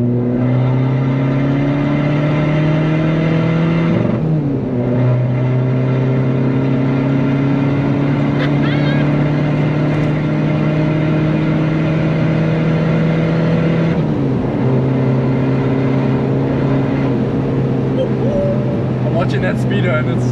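A 2005 VW 1.9 TDI diesel with a stage 3 tune pulls hard under acceleration, a loud steady engine drone rising in pitch through each gear, with two brief dips at the shifts, recorded from inside the car.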